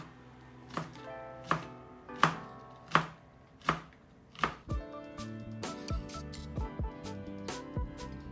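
Leeks are chopped into small pieces on a board for a vegan vichyssoise. About seven slow, evenly spaced knife thuds come first, followed by a quicker run of lighter cuts, all close and clear.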